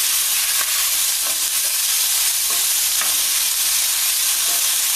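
Small salmon pieces sizzle in a hot pan with a constant bright hiss, while a utensil scrapes and stirs in soft repeated strokes. The stirring stays close and steady, with no talking.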